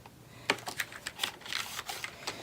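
Keys on an Apple Pro keyboard, unboxed with a Power Macintosh G4, clack in a quick uneven run of about a dozen crisp presses, close and fairly quiet.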